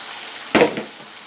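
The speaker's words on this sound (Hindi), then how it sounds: "तो अब इसमें मैं तुरई और अनियन डालने लगी हूँ।" Sliced ridge gourd (turai) and onion hitting a hot pan, a single sharp burst of sizzling that quickly fades into a soft frying hiss. It is close and isolated, with no talk.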